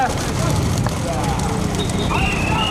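Bulls charging past in a rural Madurai bull-cart race for prize money, a dense, continuous rumble of hooves and crowd noise with shouting voices over it throughout.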